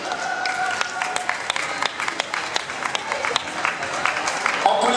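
An audience claps for performers as they arrive, a busy, fairly close patter of hands with scattered sharp claps and some voices underneath.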